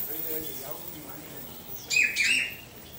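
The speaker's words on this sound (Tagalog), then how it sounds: "Ayan o, ibon o." A bird chirps twice in quick bursts near the end, bright and fairly close, over a faint background murmur.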